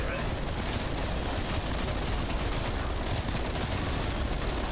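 Rapid, continuous automatic gunfire in the Call of Duty Cold War Zombies video game, a dense unbroken roar of shots and blasts filling the whole stretch, loud and close.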